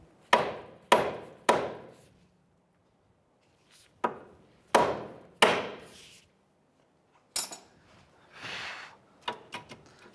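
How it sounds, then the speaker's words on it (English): A series of sharp metallic hammer taps on the steering knuckle of a 2011-2016 Hyundai Elantra, spaced irregularly in small groups with short pauses between, each ringing briefly before fading; close and fairly loud. "give it a couple of taps downward with a hammer"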